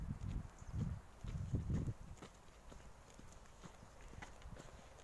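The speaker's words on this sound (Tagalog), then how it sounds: "Ang daming baka at kabayo." Hooves of horses and cows clop slowly on hard ground nearby on a farm in Asturias, a few heavy steps followed by quieter, scattered footfalls in an open outdoor setting.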